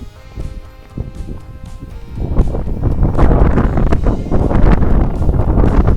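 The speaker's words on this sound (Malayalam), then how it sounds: "ഇപ്പോഴും നല്ല തണുത്ത കാറ്റടിച്ചുകൊണ്ടിരിക്കുകയാണ്" Cold wind gusting across an open hilltop viewpoint in Idukki, buffeting the microphone as a low rumbling roar that swells to a steady, louder blast partway through, with no voices.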